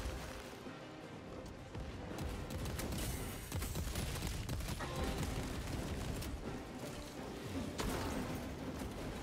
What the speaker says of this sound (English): that explosion worked very well